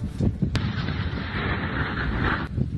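Deep rumbling explosion blasts with a sharp crack early on, a sustained roaring wash and a second crack near the end, in war footage targeting Taliban fighters outside the Panjshir valley, with no voices.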